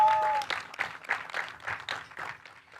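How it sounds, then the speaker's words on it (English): Guests applaud at a graduation celebration, a short burst of rapid clapping from a small group, fairly close and fading gradually over a few seconds. "Everyone clap for her, please."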